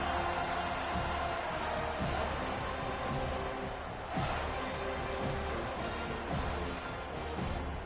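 Stadium crowd at a football game roaring continuously in a big, dense wash of cheering that swells and surges, with a commentator talking over it.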